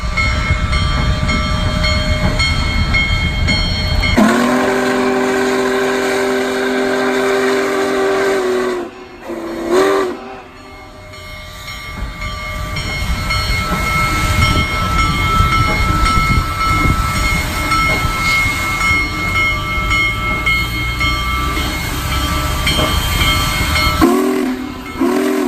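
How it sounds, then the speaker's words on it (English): Union Pacific Big Boy 4014 steam locomotive pulls a train into Evanston, its deep chuffing and rumble rolling loud and close, broken by long steam whistle blasts near the start, a brief one midway and another at the end, with hissing steam. "4014 pulls the train into Evanston"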